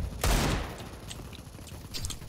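Gunfire in Counter-Strike: Global Offensive, a loud opening burst of shots followed by fainter scattered reports and game noise.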